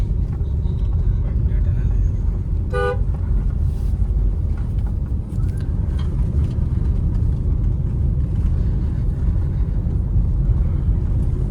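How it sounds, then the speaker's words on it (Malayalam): A single short vehicle horn honk rings out over the loud, constant rumble and wind noise of a moving car on a hill road. "നല്ല രസമുണ്ടല്ലേ എങ്ങനെ ഹോണടിച്ചു പോവാന്."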